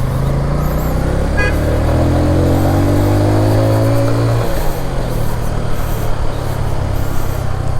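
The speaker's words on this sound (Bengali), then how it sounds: "চেষ্টা করতেছি ইঞ্জিনটার মধ্যে যতটুকু সম্ভব প্রেশার দেয়া, কম গিয়ারে একটু হাই আরপিএম করার" A Bajaj CT 100 ES motorcycle during its break-in period, engine held in low gear and revved hard, a loud droning whine climbing steadily in pitch for several seconds before dropping off, with road and wind noise and no talk.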